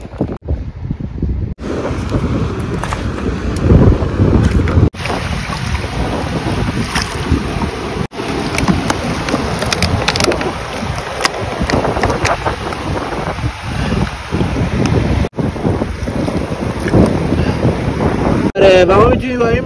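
Wind buffets the microphone and waves wash and surge along the Hormuz Island beach, a loud, steady roar of sea and gusts with no talking.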